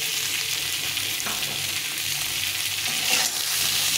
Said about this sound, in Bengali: আলু আর কচুটাকে একটু ভেজে নিতে হবে।